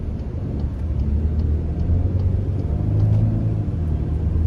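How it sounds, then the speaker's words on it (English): A 2024 Volkswagen Atlas SUV in comfort mode gives a low, steady engine rumble without induced sound, constant and fairly loud from inside the cabin, with no speech. "and then you get the normal sound of the car, not the noise induction"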